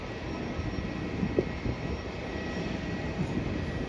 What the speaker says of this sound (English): a Qantas Airbus A330, which will be landing in a couple of minutes